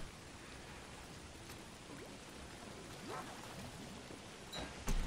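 Rain falls in the video game Don't Starve, a faint, even hiss of drops with a few soft rumbling swells and a brief louder burst near the end.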